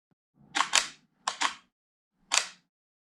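A camera shutter firing during a photography exposure exercise: two quick double clacks of the shutter and mirror, then a third after a pause, crisp and close in an otherwise silent room.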